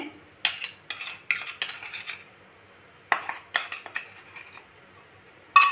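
Powdered sugar spooned onto a bread mixture in a bowl, heard as a series of sharp metallic spoon taps and scrapes in two bursts separated by a short pause, close and clear.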